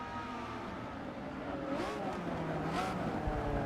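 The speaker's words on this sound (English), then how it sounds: "Listen to that engine roar as you haul around the course." A 1993 McLaren F1 in Forza Motorsport 6 roars steadily at high revs through a racing circuit, its engine note loud and continuous with rising and falling pitch sweeps as it shifts and carries speed through corners.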